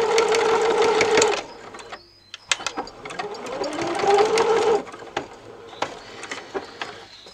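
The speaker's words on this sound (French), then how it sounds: "Et on va venir faire une petite couture" A sewing machine runs close by, stitching a fabric face mask in a couple of steady whirring runs, then ticks through short, slow stitches and stops, with no voices.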